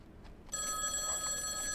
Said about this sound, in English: The phone goes off.